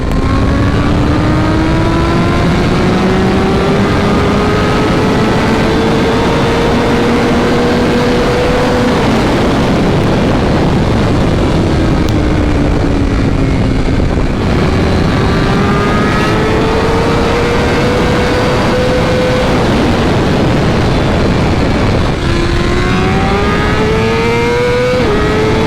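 A 2023 BMW M1000RR motorcycle engine screams through a long fourth-gear pull on a dyno, loud and close, its pitch climbing steadily before dropping and climbing again in repeated sweeps.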